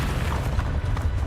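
Expelliarmus spell cast in Hogwarts Legacy, a dense, steady rumbling burst with low booming energy and a few crackling pops running through the whole short moment, fairly loud and without talk.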